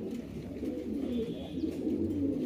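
Syrian Dewlap pigeon cooing, a low, soft, continuous murmur that runs steadily under a faint background hum, fairly close and moderately quiet, with no talk.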